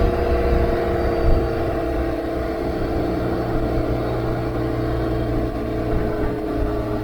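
A BMW R1200GSA motorcycle engine drones steadily while riding, a loud continuous low hum with wind rush, no voices, holding an even pitch throughout.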